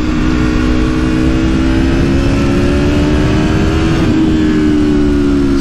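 A 2020 Aprilia Tuono V4 1100 Factory naked motorcycle being ridden through bends, its engine droning loudly and continuously with a steady pitch that rises slightly then eases, under strong wind rush.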